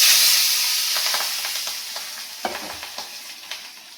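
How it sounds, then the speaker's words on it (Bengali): Fish marinated in salt and turmeric fries in hot oil, a loud hissing sizzle that swells at first and then settles, broken by scattered sharp pops and crackles. "এবার তেল গরম হয়ে গেছে। এবারে মাছটাকে আস্তে করে ছেড়ে দেবো।"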